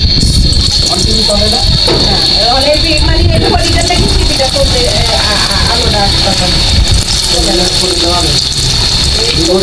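Something drops into hot oil in a home kitchen for egg lollipops, producing a loud, steady, close sizzle and crackle that continues throughout without any spoken words.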